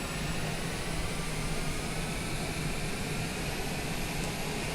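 A Cessna airplane taxiing to parking at night, its engine a steady, close, even drone that holds unchanged throughout with no talk.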